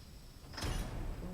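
A single loud knock on a door, sharp and close, followed by a short low rumble, with no talk.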